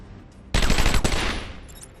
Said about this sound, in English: How are they shooting at me?